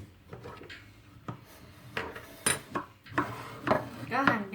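A knife cuts fruit on a board, with scraping and a few knocks, faint rustling and handling noises between the cuts.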